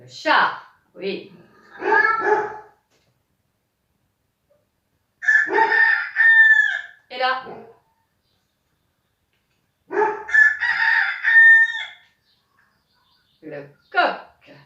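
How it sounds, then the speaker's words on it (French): A rooster crows in a few separate calls spaced across the clip, with harmonic cries and gaps of quiet between them; a brief spoken word appears near the start. "Le coq."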